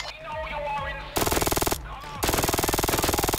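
Rapid automatic gunfire in the video game Payday comes in two long, loud, close bursts of evenly spaced shots, with quieter game sounds before and between them.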